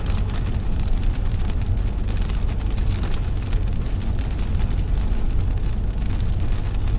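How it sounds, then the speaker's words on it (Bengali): Dense, steady rain patters heavily on surfaces, a loud continuous wash of drops with a low rumbling undertone. "বৃষ্টি শুরু হয়ে গেছে।"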